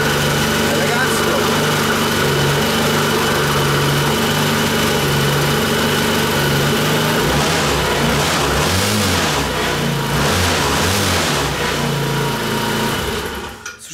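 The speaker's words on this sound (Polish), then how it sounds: "Słyszycie, jak ten silnik się zbiera?" Zipp Vapor 4T four-stroke scooter engine running just after starting, a buzzy steady idle that then rises and falls in several revs toward the end, close and loud, with someone talking over it.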